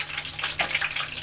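Firecracker shrimp fry in hot oil with a steady, crackling hiss and a few brief pops rising over it, heard close up.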